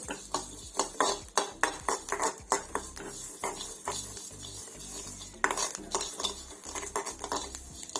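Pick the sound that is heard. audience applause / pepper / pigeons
pepper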